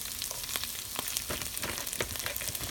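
Brussels sprouts fry in a pan with a busy crackling sizzle and scattered pops and clicks from utensil contact, close and steady with no voices.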